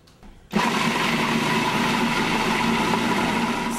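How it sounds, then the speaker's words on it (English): A food processor full of black beans and walnuts for brownies switches on abruptly and runs with a loud, steady whirring grind close by. "we can get this processor moving, because it's going to be very dry and we'll never get those beans and walnuts creamy"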